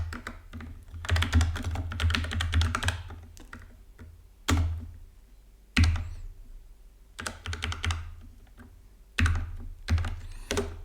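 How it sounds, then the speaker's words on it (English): Steady typing on a computer keyboard in bursts of rapid key clicks, broken by a few louder single thumps and short pauses, close and fairly loud with no talking. "Yeah, and I'm just typing out here"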